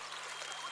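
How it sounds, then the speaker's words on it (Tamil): Water running in a steady, faint trickling stream, continuous and hissy, with no voices over it. "அந்த பக்கம் தண்ணி ஓடிட்டு இருக்கு."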